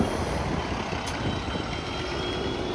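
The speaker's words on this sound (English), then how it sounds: "3631, that's a hybrid bus." A Nova LFS hybrid city bus passes along a city street with a low, steady engine rumble and road noise, close by, with a faint high whine and a brief hiss.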